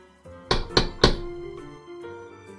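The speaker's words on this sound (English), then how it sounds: "there was a loud knock at the door." Three loud, heavy knocks on a door in quick succession, close and booming, set over soft background music in a children's story.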